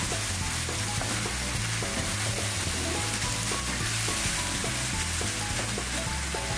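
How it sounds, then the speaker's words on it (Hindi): Minced meat frying in a pan with ginger, garlic and masala for aloo keema, giving a steady, close sizzle with scattered stirring scrapes throughout, and no talking. "इसको हम थोड़ा इसके साथ मसाले अपना जिंजर गार्लिक के साथ इसको हम थोड़ा भूनेंगे।"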